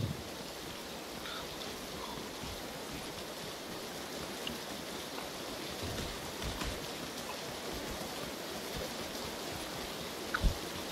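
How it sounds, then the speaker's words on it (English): Steady rain falls throughout a video game match, a dense, even hiss with no talk over it and a couple of faint clicks near the end. "it looks like we have a rain game"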